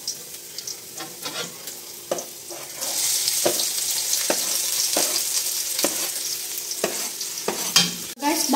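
Garlic and onion sauté together in a pan with a steady sizzle, broken by regular scraping strokes of a spatula stirring the mix at close range.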